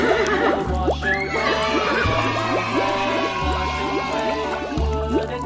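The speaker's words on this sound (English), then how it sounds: "Horse." A cartoon horse neighs and whinnies in a children's animal animation, the call sitting over a steady, upbeat nursery-rhyme style music track with a rhythmic bass pulse throughout.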